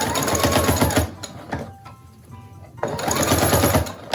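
A sewing machine stitches a fabric mask in two loud, close, fast-running bursts separated by a quieter pause of handling sounds.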